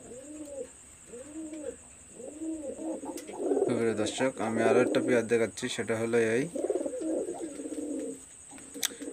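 Red hill pigeons coo in repeated rolling phrases at first, then someone talks loudly over the cooing, which continues faintly beneath his voice.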